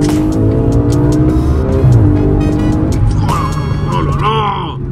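An Audi RS4 accelerates hard, its engine note rising and swelling loudly from inside the car, with people talking over it throughout.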